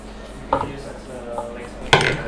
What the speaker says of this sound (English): I'm just going to take out our whisk, place that back here.